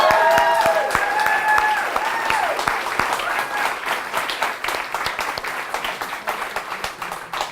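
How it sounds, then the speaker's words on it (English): Sustained applause from a political rally crowd in Ontario County, loud and dense clapping that thins slightly over time, with some whistles or cheers over it early on. "Let's give a round of applause for Grassroots."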